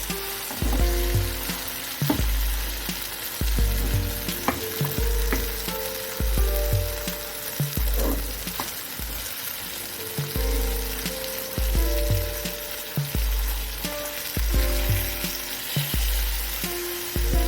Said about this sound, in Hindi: इस टाइम पे हमने इसे ऐसे भून लेना